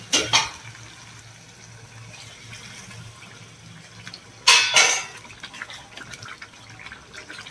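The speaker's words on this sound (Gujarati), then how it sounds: "તો હવે આપણે જે ઉપર પાણી બચેલું હતું એ પાણી આની અંદર આપણે એડ કરી દેવાનું છે." Leftover cooking water poured into a Surti-style ridge gourd curry, a soft continuous trickle with two sharper splashing bursts near the start and midway, quiet overall and without speech.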